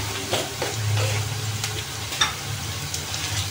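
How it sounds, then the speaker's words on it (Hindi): Cumin seeds roasting with softened onion in a pan, a continuous soft sizzle with occasional stirring scrapes, close and steady. "जीरे को हम थोड़ा सा भुनेंगे प्याज के साथ।"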